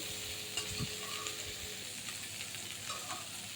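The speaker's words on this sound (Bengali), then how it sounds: "এবার বারবার নাড়াচাড়া করতে হবে। এভাবে নেড়ে চেড়ে" A pan of bhotbhoti paste fries steadily while being stirred over and over, a low continuous sizzle with occasional soft scrapes of the spoon.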